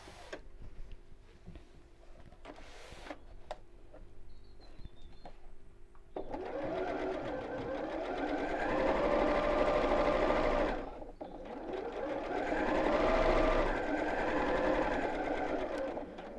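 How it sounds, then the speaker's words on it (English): A sewing machine stitches around a fabric drawstring pouch: quiet handling noises at first, then a steady, close mechanical whir and rapid needle patter in two long runs separated by a short pause. "I'm going to sew along both of these all the way around"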